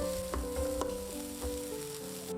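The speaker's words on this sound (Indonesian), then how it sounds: "Masukkan bawang bombay cacah. Aduk hingga aromanya keluar." Chopped onion and garlic sizzle steadily in a little hot oil in a pan, with a few soft scrapes of stirring breaking the continuous close frying hiss.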